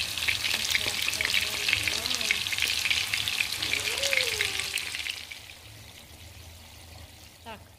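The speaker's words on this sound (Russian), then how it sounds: "Котлеты жарятся" Loud, steady sizzling of meat patties frying in a pan, with scraping and stirring, fading to a quieter hiss partway through.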